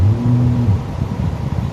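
A deep, throaty simulated V8 engine rumble from the speaker of a Mahindra XEV 9S electric SUV hums briefly, then fades into a rough low burble, close and fairly loud.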